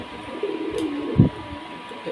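A male pigeon coos close by in a loft of coloured fancy pigeons, low throaty rolling calls with one louder burst near the end, while someone speaks over it.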